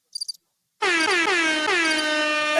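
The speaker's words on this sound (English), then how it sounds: "do the air horn again" A loud, sustained air horn blast from a soundboard sound effect, ringing alone for nearly two seconds after a few faint short clicks.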